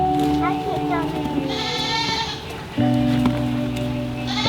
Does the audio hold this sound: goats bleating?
yes